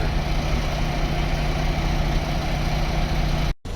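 Bus engine idling at the St. Cloud station, a steady close low drone with even rumble, briefly cut off near the end.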